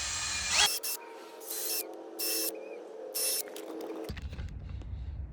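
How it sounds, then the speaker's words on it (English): A power drill bores holes for a no-sag DIY gate kit, several short, loud bursts of whining drilling separated by pauses, with a steady mechanical hum underneath. "we're gonna actually just go through and drill them all"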